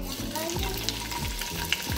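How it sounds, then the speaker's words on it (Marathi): Paneer cubes sizzle steadily in hot oil in a home kitchen, with a constant frying hiss and faint stirring clinks throughout. "सो आता ह्याच्यामध्ये आपण तेलामध्ये आपण पनीर टाकणार आहोत."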